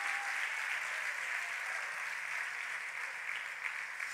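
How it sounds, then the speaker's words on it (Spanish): A live audience applauds loudly and steadily at a motivational talk, a dense, sustained wash of clapping that fills the whole moment without pause, with no voices standing out above it. "Y aplaudite bien fuerte porque esta palabra es para tu vida."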